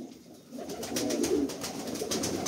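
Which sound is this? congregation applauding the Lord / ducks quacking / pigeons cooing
pigeons cooing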